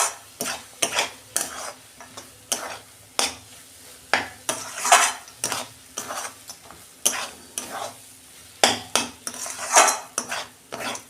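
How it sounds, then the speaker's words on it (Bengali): Semolina upma is stirred with hot water in a pan: rhythmic scraping and clattering strokes of a spatula against the metal, each stroke distinct and fairly loud, with a light sizzle beneath. "আমি জল দিয়ে নাড়ছি"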